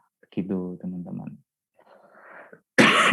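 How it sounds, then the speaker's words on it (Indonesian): Someone talks briefly, then after a pause gives a single harsh cough close to the microphone. "Saya agak batuk."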